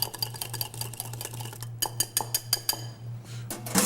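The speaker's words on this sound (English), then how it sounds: "Let's stir this back through again real quick." A spoon stirring pepper salad in a bowl, giving a steady series of light clinks and scrapes against the dish over a constant low hum, with sharper taps toward the end.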